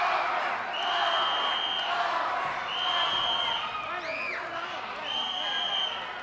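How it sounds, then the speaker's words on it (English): A 1981 Championship Wrestling arena crowd picks up a chant, with rising and falling waves of voices and sustained shouted tones repeating under a commentator's ongoing talk. "And again, the crowd starting to pick up the chant."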